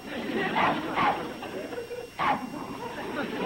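A dog barks three times, close and loud, in a scene from the TV sitcom Petticoat Junction, with some whimpering and talking voices mixed in beneath.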